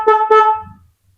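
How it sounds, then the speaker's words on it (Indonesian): Two short, bright honks from a motorcycle horn in quick succession, close and loud, followed by a faint low rumble. "klakson."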